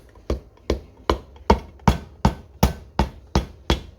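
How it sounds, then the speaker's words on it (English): A hammer handle taps a piston down into the bore of a flathead Briggs and Stratton tiller engine, giving about ten evenly spaced, sharp knocks, close and loud, with no talk. "just take plastic or wooden end of, or handle of a hammer, and just kind of tap this around"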